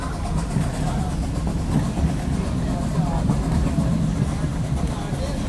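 Nickel Plate Road 765 steam locomotive on a 2019 valley excursion, heard as a steady low rumble of running gear and exhaust under a voice speaking close by.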